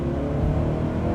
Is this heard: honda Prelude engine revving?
yes